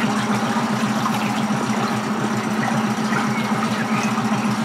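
A Tohatsu MFS 9.8 B outboard motor running steadily after break-in, a continuous close, loud pulsing drone with a regular rhythmic knock and no speech over it.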